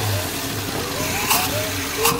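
A car engine fitted with Holley Sniper EFI idles steadily with a low, lumpy rumble close by, under people talking, with a couple of brief louder bursts.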